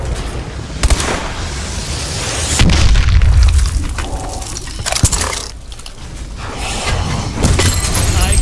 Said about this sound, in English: DNA bomb activated.